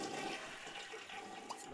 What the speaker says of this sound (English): Are you gonna flush the thing or not?